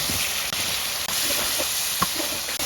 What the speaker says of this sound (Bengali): এখন মোরা টমেটো দিয়ে দিব।